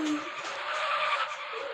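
A car drifting with its tires skidding and squealing in a sustained, bright screech lasting under two seconds, loud and close, with no talk over it.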